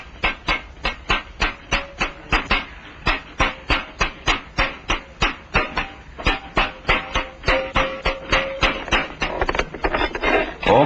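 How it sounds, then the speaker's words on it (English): An artisan hammers out copper utensils in a shared workshop, with steady, evenly spaced metallic strikes ringing out one after another for the whole stretch, loud and close. "hammer out copper utensils"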